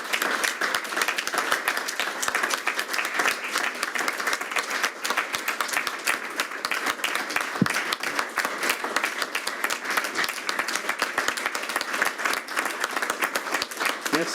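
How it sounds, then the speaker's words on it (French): At a plenary session of the Haut-Rhin departmental council, the audience breaks into dense, continuous applause after a speech ends, a steady roar of many hands clapping at even loudness throughout. "Merci pour ces applaudissements et cette adhésion massive à ce message."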